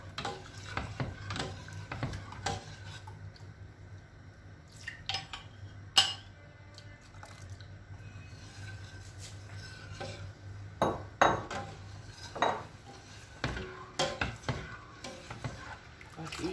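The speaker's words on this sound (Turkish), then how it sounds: "Yoğurtlu çorbaları da kaynayıncaya kadar karıştırmamız lazım kesmemesi için" Yogurt-based coriander soup being stirred in a pot, a spoon scraping and clinking against the metal in irregular strokes, close and moderately quiet over a low steady hum.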